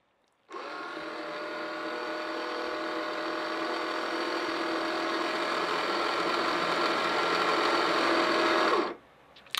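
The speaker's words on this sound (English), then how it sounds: "press the regen button, hold it down for 5 seconds, and the valve will automatically start up" A water softener control valve kicks into a manual regeneration cycle, a motor hum switching on abruptly and running steadily at even loudness for about eight seconds before cutting off.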